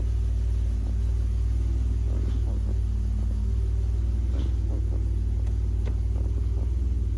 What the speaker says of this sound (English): We're doing some baby steps in the garage, backing up really slow, checking for mechanical noises, and making sure the thing actually brakes.